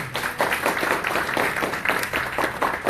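Applause from an audience at a city council meeting as a certificate is presented, a steady dense patter of clapping throughout, fairly close and continuous.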